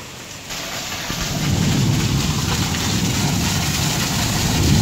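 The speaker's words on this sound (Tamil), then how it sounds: "கடந்த 2-3 நாட்களாகவே மழை பெய்து கொண்டிருக்கக்கூடிய இந்த சூழ்நிலையில் கனமழையாக பெய்து கொண்டிருக்கின்றது." Heavy rain pours down in Trichy, a dense, loud hiss that grows steadily over a few seconds, with a low rumble that may be a passing vehicle.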